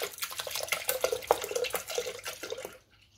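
Milk pours into a Thermomix bowl for crêpe batter, a close, bubbling liquid stream that runs continuously for about three seconds before cutting off into near silence.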